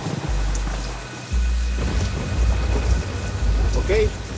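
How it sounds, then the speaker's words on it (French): A heavy downpour lashes a volcanic slope in Indonesia, dense loud rain close by with deep rolling thunder rumbling through it. "la petite pluie va se transformer en averse diluvienne"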